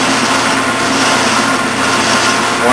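A metal lathe runs steadily while tapping a thread, its clutch-driven spindle giving a loud continuous mechanical whir with a faint high whine and no talk.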